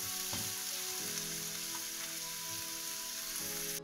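Chopped onions for pepper chicken sauté in hot oil, a dense continuous sizzle close up with faint occasional stirring scrapes, unbroken throughout and with no voices.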